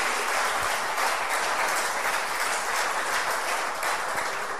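Church congregation breaking into sustained applause, a dense, even wash of many hands clapping at once, loud and continuous from start to finish with no talking over it.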